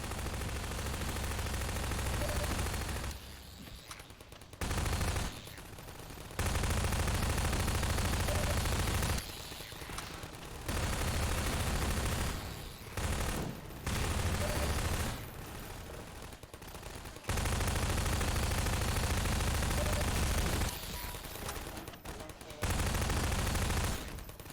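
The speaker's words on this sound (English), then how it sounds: "I have to use this very loud gun." Bursts of loud automatic gunfire from a heavy gun in Half-Life 2 Episode Two, firing in several sustained volleys separated by short pauses, close and dominant throughout.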